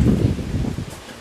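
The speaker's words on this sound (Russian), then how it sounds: "ветер, слышите, какой ураган" Strong hurricane wind in southern Spain, a brief gusting rush that rustles leaves nearby and fades out within a second or so, with no voices.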